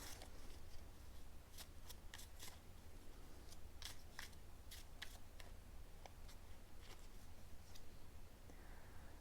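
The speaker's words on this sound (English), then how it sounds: "They just want me to shuffle." Playing cards being shuffled during a tarot or oracle reading, heard as a run of quick, crisp riffling bursts and snaps over a low steady hum, fairly faint and with no talking.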